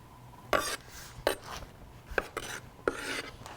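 Juicy tomato topping being scooped up and dropped into a bowl, with a handful of wet scraping and soft plopping sounds at irregular intervals, close and without any voices.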